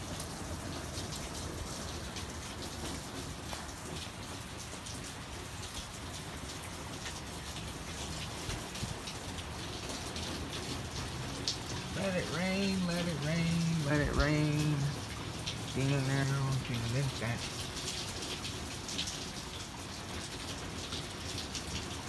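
Rain falls steadily outside on a wintry day, a constant dense patter on surfaces throughout, with a voice talking over it partway through.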